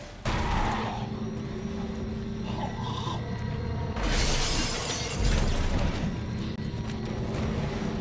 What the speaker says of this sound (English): If you can shatter a glass wall with your newfound gadget